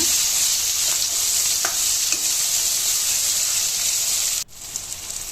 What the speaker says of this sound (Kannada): ಈಗ ಒಂದು ಟೊಮೆಟೊ ಹಾಕ್ಕೊತಿದ್ದೀನಿ